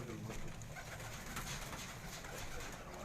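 Pigeons kept at a home in Jalalpur Bhattian coo steadily and softly against a dense, continuous background hiss, the low throaty calls overlapping throughout with no pauses.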